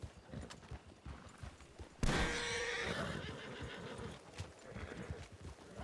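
A sudden loud gunshot cracks in a ranch roleplay video game, followed by a startled horse whinnying and hooves clip-clopping, all close and clear.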